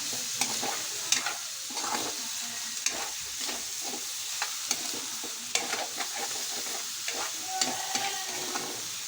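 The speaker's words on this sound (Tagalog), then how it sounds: "halo na natin itong karne" Meat for adobong sitaw is stirred in a hot frying pan, a continuous close sizzle punctuated by repeated scraping and clacking strokes of a spatula against the pan, with no talk.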